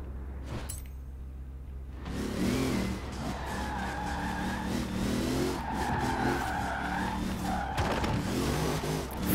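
A car drifts in the Forza Horizon 4 racing game, with the engine revving and the tires squealing in long, loud skids over a steady engine drone.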